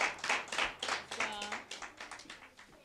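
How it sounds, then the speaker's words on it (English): Church congregation clapping hands during a Sunday morning service, a burst of quick, uneven claps with voices heard over them. "Somebody clap your hands this morning."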